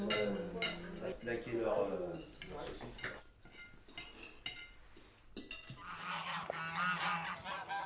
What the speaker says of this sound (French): les oies du Capitole qui viennent nous voir.